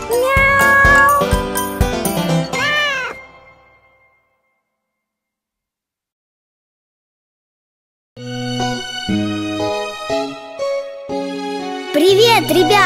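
Kitten meows ring out inside a cheerful children's nursery song about three little kittens, with a short meow sweep before a silent pause and more meowing over the returning music at the end.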